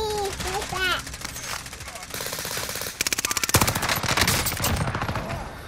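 In a video game, gunfire hits the player from behind: a steady drone gives way to rapid, crackling automatic bursts that grow louder and denser toward the end, with a brief voice heard early on.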